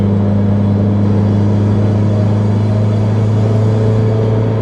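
A Mitsubishi Lancer Evolution 7 engine pulls hard through the gears, a loud steady droning rumble with a strong low hum, close and continuous with no talking.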